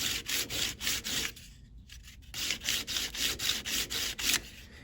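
A jewellery ring is sanded by hand in steady back-and-forth rasping strokes, quiet and close, with a short pause before the rhythmic rubbing resumes.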